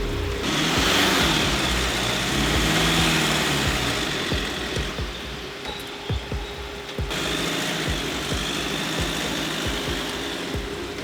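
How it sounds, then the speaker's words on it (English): A van's engine runs steadily while it reverses up a steep street with the bumper on the ground, low rumbling and scraping knocks continuing close and loud throughout. "So we're trying to back out of this street, but it's pretty steep, and it seems that we are hitting the bumper."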